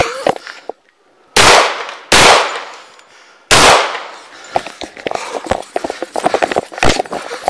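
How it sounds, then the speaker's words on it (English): Gunshots fired in a police shooting on a city street, three loud sharp bangs close by, spaced about a second apart, followed by a rapid cluster of smaller popping cracks and commotion. "Shots fired, shots fired!"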